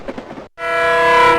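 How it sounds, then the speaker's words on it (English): Speeding train sound effect: a short rumble and a brief gap, then a loud, sustained train horn chord that swells and holds to the end. "Bow and Ounce and Owen Bounce fell off a speeding train"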